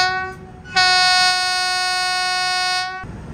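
The Chennai–Jaipur Superfast Express sounds its horn near Chandrapur station: one loud, steady, sustained blast of about two seconds, sharply starting and fading off over the faint rumble of the moving train.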